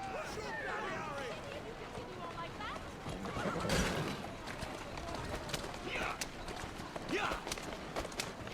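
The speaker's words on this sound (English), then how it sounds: "Yo, give me the horse." Horse hooves clatter in Assassin's Creed Syndicate, set in Victorian London, with a galloping clip-clop, neighing and whinnying mixed with game music and ambience while someone talks over it.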